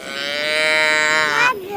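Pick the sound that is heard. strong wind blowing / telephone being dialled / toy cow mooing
toy cow mooing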